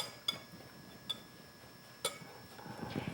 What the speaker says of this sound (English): You just want to dump that right in there into your dry ingredients. Kind of whisk that through.